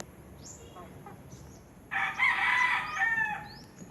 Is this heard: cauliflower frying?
no